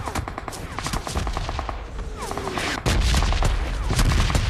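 M249 machine gun fire in a mobile video game, rapid evenly spaced automatic bursts sounding steadily throughout, with a heavier, louder stretch in the second half over background game noise.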